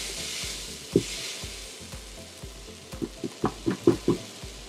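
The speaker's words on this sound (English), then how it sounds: "I want to get that plantain to cook a little bit on the outside and caramelize to seal in some of its flavor" Plantain fries and caramelizes in a pan, giving a continuous soft sizzle while a utensil stirs and taps against the pan in a quick run of close, distinct knocks near the end.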